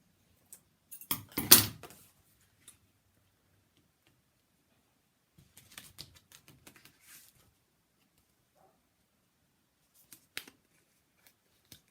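Scissors trimming a piece of sellotape on a handmade book, a few close snips and clicks in a short cluster, then scattered faint taps and rustles in a quiet room.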